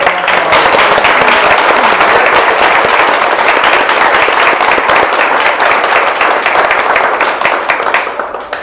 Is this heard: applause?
yes